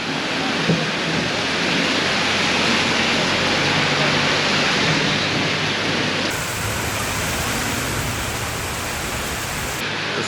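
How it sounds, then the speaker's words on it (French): Heavy rain pours down in rural Thailand in a steady, dense roar, with a low rumble of thunder underneath; the downpour thickens slightly partway through. "Petite pause déluge."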